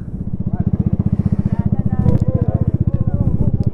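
Many motorcycles ride past on a mountain highway, their engines throbbing in a steady, rapid pulse that rises and falls as they pass close by, with people talking and cheering over the engine noise.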